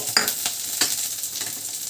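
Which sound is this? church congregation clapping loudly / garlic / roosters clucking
garlic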